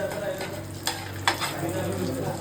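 Bhurji fries in a pan with a steady, close sizzle, broken by a few sharp scrapes of a spatula stirring it.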